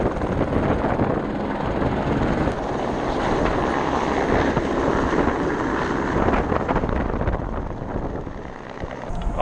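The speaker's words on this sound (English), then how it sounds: "Check it out, here's the sheriff's helicopter." A sheriff's police helicopter passes overhead, its steady loud rotor and engine roar filling the whole stretch with wind-like rumble, fading slightly at the end, with no talk.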